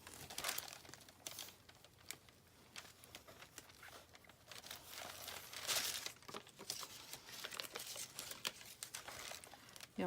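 Stickers are peeled off their backing, making faint, continuous crinkling and soft tearing sounds with small irregular crackles, quiet and close.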